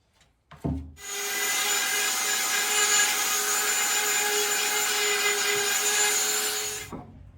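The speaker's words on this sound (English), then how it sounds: "So go ahead and sand this one down for its next coat as well." A power sander runs across a pallet wood bench between finish coats, starting after a short knock and holding a loud, steady whining drone for about six seconds before cutting off, close and alone.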